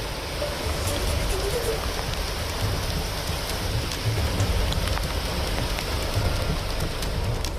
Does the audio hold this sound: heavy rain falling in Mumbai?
yes